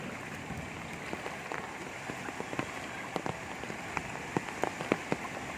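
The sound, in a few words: rain falling on a flooded street in Kolkata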